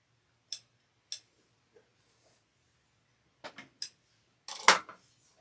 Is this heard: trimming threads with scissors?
yes